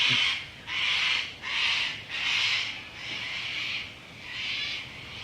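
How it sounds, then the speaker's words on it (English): Cockatoos screech loudly in a series of about six harsh, drawn-out calls, close and alone with no talking. "Sorry, the cockies are too loud. Cockatoos."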